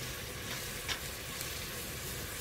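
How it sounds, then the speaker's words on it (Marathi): Mutton keema cooks village-style in a pan with a dense, continuous sizzle and crackle, close and even throughout, with a couple of brief stirring scrapes. "आपला किमा चांगला शिजत आलेला आहे।"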